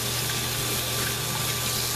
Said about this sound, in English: So the first thing that I do is I just wet the brush really well